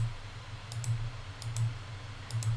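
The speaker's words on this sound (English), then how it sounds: "So I can either manually click" Mouse clicks inside quilt-design software, sounding as a few quick, sharp double clicks spaced apart over a low steady hum, with no talking.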